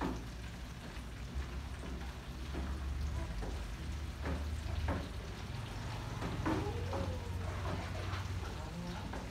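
Chili, garlic and onion frying low in a pan for chiltepin chicken, a soft steady sizzle and crackle with occasional stirring, quiet and close beneath faint talk.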